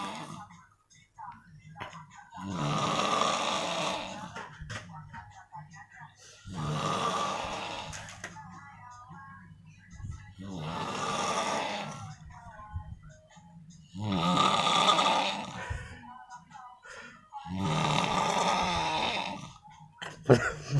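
A person snores while asleep, with five long, loud rasping snores spaced about four seconds apart and quiet breaths between them, close to the listener.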